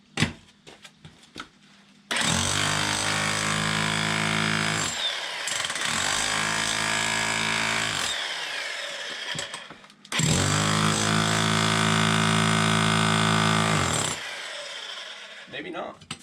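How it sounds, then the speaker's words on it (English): A Bauer SDS MAX rotary hammer pounding a basement concrete floor, two long loud bursts of rapid hammering with short pauses between, nearby and dominant, with scattered thumps before and after. "Big old rotary hammer."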